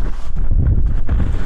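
Strong wind buffeting the microphone at a beach on Crete, a loud, close, continuous low rumble with gusty fluctuations and no voices.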